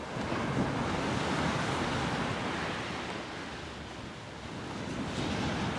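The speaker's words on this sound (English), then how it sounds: "Well, the waves go by." Sea waves roll onto the shingle of Chesil Beach in a steady, continuous roar with gusts of wind across the microphone, swelling and easing slightly without any pause.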